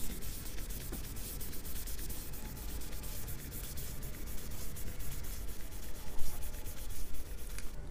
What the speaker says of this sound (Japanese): これが最後にフレットをスチールウールで磨いているところです